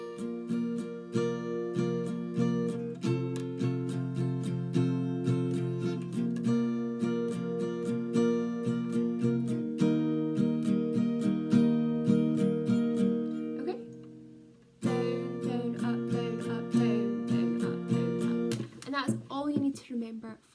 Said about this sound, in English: So the strumming pattern for this song, thankfully, is super easy and it's played the exact same way for the whole song.